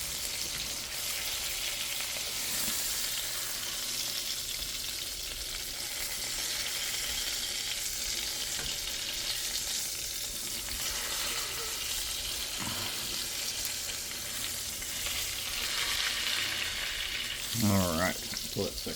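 Ribeye steak and garlic sizzle steadily in a hot frying pan, a dense continuous crackle with a brief clatter of handling near the end.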